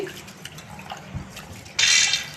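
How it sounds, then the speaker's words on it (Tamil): Water is poured over seeraga samba rice to rinse it for biryani, with a few faint drips and small clinks before a loud, close gush of pouring water near the end. "கொஞ்சம் தண்ணி ஊற்றி நம்ம அலசி"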